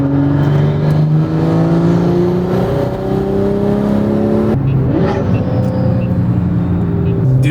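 A turbocharged BMW M340i pulls hard in 4th gear, its engine note climbing steadily in pitch, breaking briefly at a shift near the middle, then rising again, loud and close from inside the cabin with a voice talking over it.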